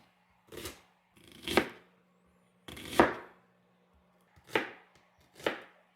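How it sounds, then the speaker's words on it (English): A knife cuts a yellow onion into thin slices on a board, giving five crisp, separate chopping strokes at an uneven pace with short silences between them. "We have here 1 yellow onion. There we go. Next, we're going to cut them into thin slices."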